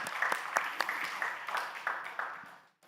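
Light, scattered applause from a congregation at a church Friday intercessory prayer service: sparse, fairly faint claps over a few seconds that fade out at the end.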